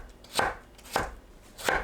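A knife cuts cucumber into thin strips on a cutting board, three crisp, evenly spaced chops close up with no talking.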